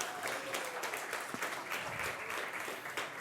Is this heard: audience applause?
yes